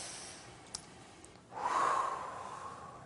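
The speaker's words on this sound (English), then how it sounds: "Take a deep breath." A single deep breath taken during EFT tapping, audible as a clear, near inhale-exhale that swells and lingers for about a second and a half after a quiet start.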